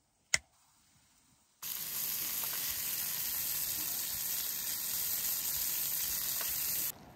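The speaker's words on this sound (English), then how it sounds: "I'm going to saute them in this pan and then add a minute rice" Squash and tomatoes sauté in a pan with a loud, even hiss of frying that starts abruptly after a click and a short quiet spell. It holds steady for about five seconds, then cuts off, with no talking.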